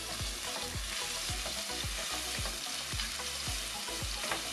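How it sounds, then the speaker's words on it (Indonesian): Chopped and ground garlic sautéing in a pan until golden for a bakso aci broth: a loud, steady sizzle and crackle, with regular thudding stirring strokes and no talking. "Kita tumis sampai menguning ya, Bu ya."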